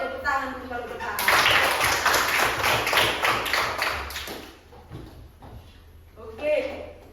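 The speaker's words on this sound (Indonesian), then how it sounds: "tepuk tangan dulu kalau udah paham" Students in a classroom clap their hands for about three seconds in a dense, close burst of many pairs of hands at once, with a voice heard before and after.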